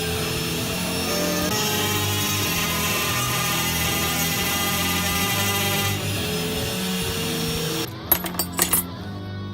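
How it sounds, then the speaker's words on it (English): A trim router whines loudly and continuously while cutting jimping on a W2 steel neck knife blade, then winds down into a few sharp clattering knocks near the end. "So the only way to do it is use the trim router and make it bigger, bring it down."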